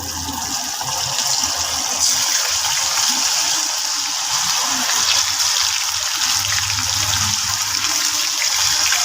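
Drumstick pieces fry in hot oil, a continuous loud bubbling hiss that carries steadily throughout with no talking.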